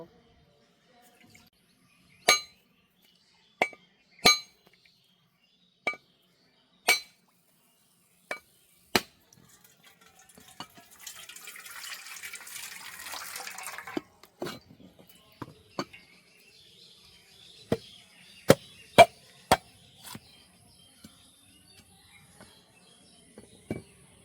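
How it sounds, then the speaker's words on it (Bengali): A coconut is struck repeatedly to crack it open, a series of sharp, hard knocks spaced a second or two apart, alone in a quiet kitchen, with a brief patch of trickling water between the blows. "নারকেলটা ফাটিয়ে নেব।"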